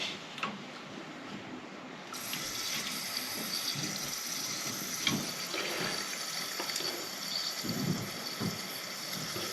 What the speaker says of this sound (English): I have a toilet flusher system with a fill valve that is leaking